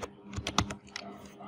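A quick burst of computer keyboard typing: about a dozen close, crisp keystrokes in an uneven rhythm over a second and a half, entering a page name.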